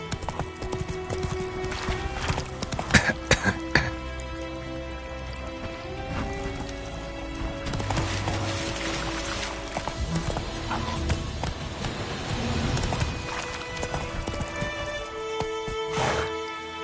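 Hoofbeats of a galloping horse in The Witcher 3 video game, quick rhythmic clip-clop over rain and other game sounds, moderately loud and steady for most of the run.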